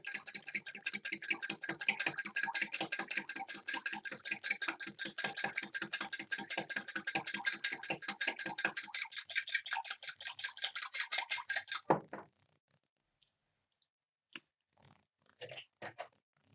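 A whisk beats salad dressing with salt and black pepper in a bowl, giving fast, even, close clicking strokes for about twelve seconds before stopping, followed by a few faint knocks in the quiet.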